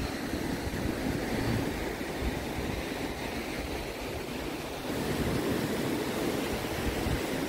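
Waves roll and break on Kaup Beach in Udupi, a broad, steady wash of surf with wind across the microphone, swelling briefly partway through, heard alone without voices.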